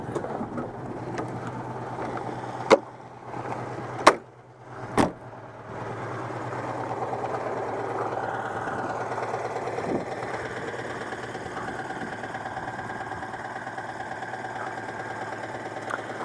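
A green Citroën 2CV driving along with its small engine running steadily, a continuous low hum and rattle heard from inside, with a few sharp clunks early on.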